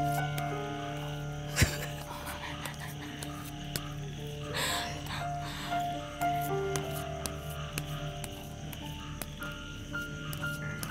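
Frogs croak in a faint, steady chorus around an abandoned site, mixed with insect chirping and an occasional sharp click.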